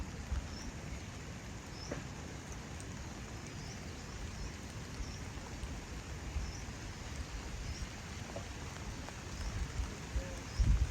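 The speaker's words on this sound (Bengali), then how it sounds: "গড়ি গড়ি বৃষ্টি হচ্ছে" Soft, steady patter of light rain outdoors at a fishing spot, with a constant gentle hiss and occasional faint drips, no voices.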